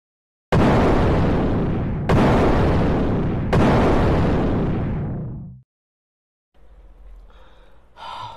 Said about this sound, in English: This challenge is to survive this explosion.